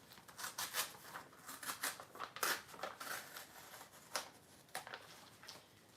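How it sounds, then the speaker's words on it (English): Pages being ripped out of a book for papercraft, a series of soft, close tearing and rustling bursts at an irregular pace, quiet and with no talking. "Let's rip out a few pages."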